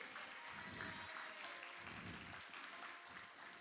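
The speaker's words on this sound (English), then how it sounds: "Let's clap for Ben really quick." An audience at an evening of stories and songs claps steadily for a few seconds, a dense, even patter of applause heard from within the room.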